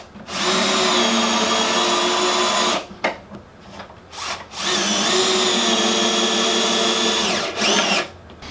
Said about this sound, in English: Requires the use of a T30 star drive bit in order to drill that, to sink that